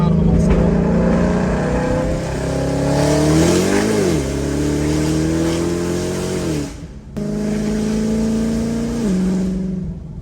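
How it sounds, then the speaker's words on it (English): Ford Mustang Shelby GT500 with a supercharged engine revving hard, its pitch climbing, then dropping through a crisp downshift, a brief cut in power and a renewed rev, loud and close from inside the car. "That downshift is one of the most crisp downshift that will ever come out of a Mustang."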